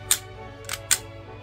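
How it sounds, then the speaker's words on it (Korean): Three sharp mechanical clicks from a Sig P226 Mk25 electric blowback toy pistol with a metal upper slide, the first one alone and the last two close together, crisp and near in a quiet room. "이 찰칵거리는 작동음이 상당히 괜찮습니다."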